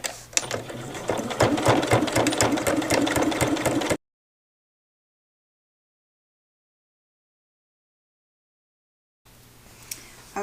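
A sewing machine runs rapidly, stitching rows down a pocket divider in a close, steady whirring chatter that halts abruptly into silence, then starts up again briefly near the end.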